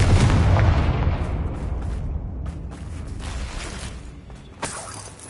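A Confringo blasting spell explodes in Hogwarts Legacy on PS5: a loud, booming blast at the start, then a rumbling tail with scattered crackles that slowly fade, with no voices.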